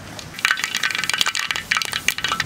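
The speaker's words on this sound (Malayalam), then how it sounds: "നമ്മൾ 2 തവി വെളിച്ചെണ്ണയാണ് നമ്മൾ മീൻ കറിക്ക് ഒഴിക്കുന്നത്. നമ്മൾ 1 സ്പൂണ് കടുക് ഇടുവാണ് പൊട്ട" Mustard seeds crackling in two ladles of hot coconut oil for a sardine fish curry, with rapid close sharp pops and ticks bursting in irregular clusters throughout.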